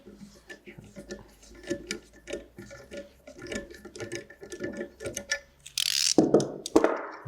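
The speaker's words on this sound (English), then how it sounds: "Now I can just run my screw back out." A ratchet clicks rapidly as the screw of an EJ SOHC valve spring compressor is backed out on a Subaru cylinder head, in quick, steady bursts of close metallic ticking, followed by a couple of louder clanks at the end.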